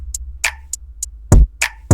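A country-pop drum pattern programmed in FL Studio layers a deep kick and a sharp snap over a steady ticking hi-hat loop. The hits are punchy and evenly spaced, with no voices.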